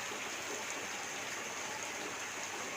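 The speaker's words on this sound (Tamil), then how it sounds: "இப்போ நல்லா மழை பெஞ்சு கூலிங் ஆகிடுச்சு கிளைமேட்டு" Steady rain falls in a village setting, a dense even hiss of drops with no breaks and no voices, moderately loud and close throughout.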